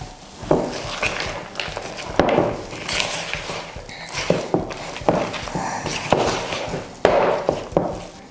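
Chopped nuts and chocolate bits being stirred into fudgy brownie dough, with repeated scraping and thudding strokes of a spoon against a bowl at an uneven rhythm, close and fairly loud.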